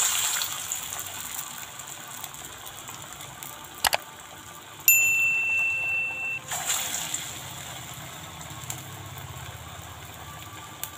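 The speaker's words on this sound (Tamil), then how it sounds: "இப்போ போட்டுடலாம் வடை." Tapioca (cassava) vada batter dropped into hot oil in a home kitchen, giving a steady broadband sizzle with a few sharp splashes and a louder burst of bubbling frying midway, alone without talk.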